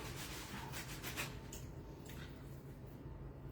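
A cutter presses rounds out of pastry dough for cherry tomato tatins, making soft, close scraping and rubbing sounds with a few light taps, faint and without talk.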